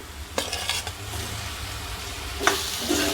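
A spoon stirs fried flat broad beans with coriander and cumin powder in a pan, scraping in short bursts over a soft, steady sizzle, close and without talk.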